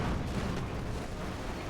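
Explosions in the Company of Heroes 2 war game, a brief stretch of deep rumbling blasts and booms blending into a continuous heavy roar.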